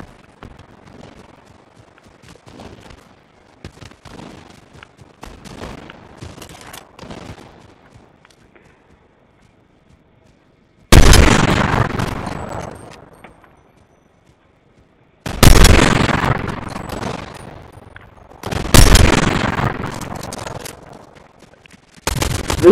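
A hunting rifle in Fortnite fires three loud, separate shots several seconds apart, each a sharp crack with a long rumbling tail. Quieter clicking game activity comes before them.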